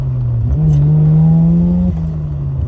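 A Mazda RX-7 rotary engine revs close and loud, climbing in pitch, holding a sustained rev, then dropping back with a second brief blip, with no voices over it.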